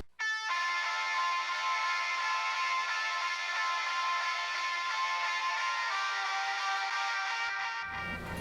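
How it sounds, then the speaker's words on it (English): A sustained distorted guitar drone through the crunch channel of the JST Toneforge Misha Mansoor amp plugin rings steadily with a thick crunchy tone, holding loud and unchanging for several seconds before cutting off. "the next one would be our drone guitars."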